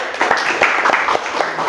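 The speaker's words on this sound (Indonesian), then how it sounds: "Beri aplaus untuk kelompok 3." Audience clapping for a student presentation group at a university classroom session, a steady burst of many hands lasting the whole moment, moderately loud with no talk over it.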